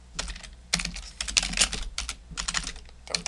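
Rapid typing on a computer keyboard, with clustered bursts of clacking keystrokes separated by short pauses, close and fairly quiet with no talk.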